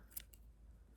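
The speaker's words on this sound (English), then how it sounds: "Also, look, I found actual scissors. So we're going to go really close to the knot." Scissors snip yarn close to a crochet knot while making a cat beanie, with two quick, crisp cuts close up in a quiet room.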